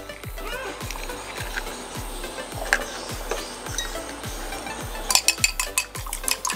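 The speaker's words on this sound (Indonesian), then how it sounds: "sekarang kita kocok dulu telur" One egg is whisked in a bowl for an Indonesian-style sundubu jjigae, a quick steady run of light tapping strokes that picks up into brighter clinks near the end.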